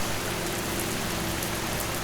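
Heavy stormy rain pours down in a dense, loud, unbroken roar that floods the ground, with no voices or other sounds.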